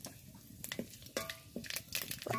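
Bay leaf and black panch phoron crackle in oil in a wok, giving faint scattered pops and sharp stirring scrapes close by.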